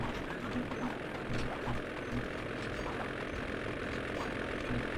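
A steady, loud engine drone from the ice plane in the video game Sly 2: Band of Thieves, a continuous propeller-aircraft roar with no break across the whole stretch.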